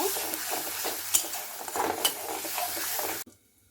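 Spice paste of dry chilli powder sizzles and fries in a pan after a little water is added, with a steady bubbling hiss, a few stirring scrapes and clinks, then an abrupt stop near the end.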